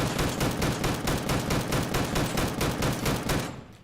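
Loud, close single-fire gunshots aimed at a turret in the game Deadside, fired in a fast steady string of about four shots a second before stopping abruptly near the end.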